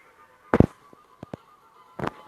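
Bombs explode in the Age of War 2 video game: two loud, sharp blasts about a second and a half apart, with a few smaller pops between them, all close and with no voice.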